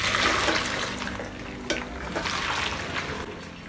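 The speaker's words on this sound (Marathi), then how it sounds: "तर आता आपण हा गाळून घेऊया।" Boiled salted pasta water pours out through a strainer in a kitchen, a steady close rushing splash that holds across the moment with a brief clatter partway through.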